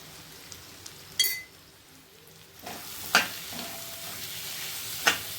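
Prawns frying in a pan with chili powder, a steady sizzling hiss punctuated by a few sharp scrapes and clinks of a spoon against the pan, close and fairly loud, no talking.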